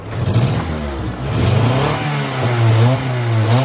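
A Honda Accord engine revs up and down in smooth, repeated swells after a misfire repair. It sounds close and loud, with no talking.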